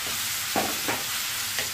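Tomatoes drop into a pan of frying wheat rava upma, giving a steady close sizzle with a few soft stirring scrapes and splashes, no talking.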